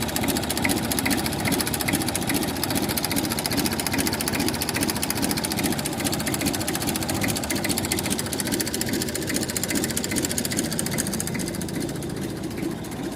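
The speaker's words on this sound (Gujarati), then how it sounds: "સારી કન્ડિશનમાં તમને મેસી ફર્ગ્યુસન ટ્રેક્ટર જોવા મળશે" A 1980 Massey Ferguson 35 tractor engine in good condition idles steadily, a continuous rapid mechanical chugging with an even, unbroken rhythm, close and fairly loud, with no one talking.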